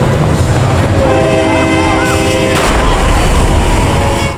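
A train in a TV series scene accelerates through a blockade, with a loud rumbling rush of wheels and engine, a blaring horn-like tone, and sharp impact bursts mixed in, continuous and close.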